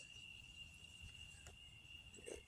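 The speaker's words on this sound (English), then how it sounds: "Love the crickets chirping at night." A lone cricket keeps up a continuous high chirping at low volume, with a couple of soft knocks and rustles near the end.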